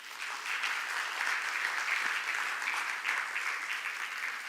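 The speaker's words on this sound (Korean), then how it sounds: "여러분들을 위해서 자축의 박수 치겠습니다." Sustained applause from a large audience, dense and even throughout, with no talking over it.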